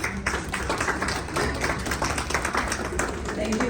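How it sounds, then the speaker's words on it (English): Audience clapping at a legal general counsel conference, a short burst of scattered, uneven hand claps filling a few seconds. "Can I please have a huge round of applause?"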